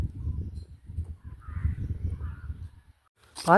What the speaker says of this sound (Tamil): மயிலடா டேய் மயில்